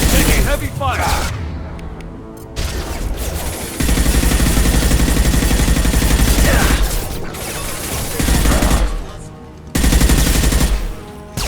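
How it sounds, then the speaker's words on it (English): Heavy gunfire crackles through a Mass Effect 2 combat fight, with bursts of shooting and booms that come in loud, dense stretches broken by short pauses, while voices shout over the action. "Taking heavy fire!"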